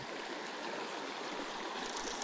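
A small brook trout creek runs steadily nearby, a continuous close rushing and burbling of water with no voices over it.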